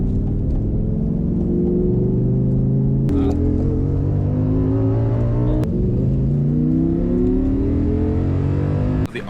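An Audi R8 supercar engine revs hard on a track, climbing through repeated rising pulls with quick shift breaks between them, loud and close throughout.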